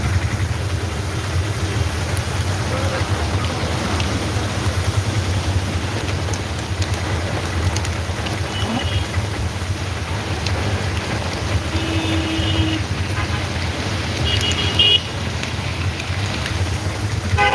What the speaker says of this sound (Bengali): এ পাশে ফুল বৃষ্টি দিচ্ছে